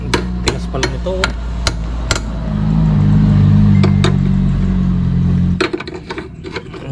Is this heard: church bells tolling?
no